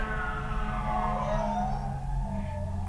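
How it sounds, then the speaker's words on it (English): Sirens wail in the distance, several overlapping tones gliding slowly up and down over a low background hum. "there's some sirens in the background"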